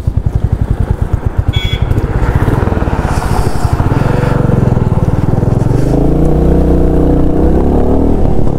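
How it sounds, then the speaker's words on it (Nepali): A motorcycle ridden on a road in Sikkim runs loud and close, its engine putting out a rapid rhythmic putter that builds and revs up into a steadier drone as it moves off. "मेरो साथीले बाइक कुदाउनु छ हेरौँ राम्रो बाइक कुदाउनु छ"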